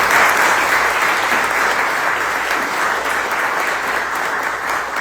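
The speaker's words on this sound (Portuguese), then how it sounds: "Aplauda o Senhor Jesus." A church congregation applauds after a Portuguese sermon, sustained loud clapping from many hands filling the room evenly for several seconds without a break.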